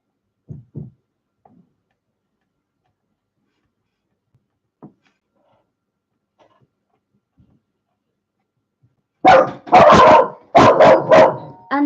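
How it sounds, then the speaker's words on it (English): A dog barks in a quick burst of three or four loud, close barks near the end, after a long stretch of near-silence broken only by a few faint knocks. "And the dog goes mad"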